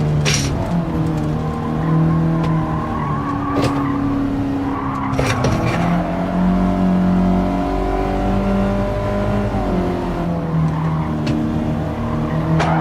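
A Volkswagen GTI Mark 1 races in Gran Turismo 7, its engine holding a steady loud drone that rises and falls through gear changes, with brief tire squeals and skids, no voices.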